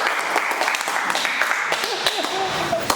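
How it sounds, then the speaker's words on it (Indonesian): A room of people clapping together in steady applause, mixed with a few voices and cheers. "Tepuk tangan untuk Ipal."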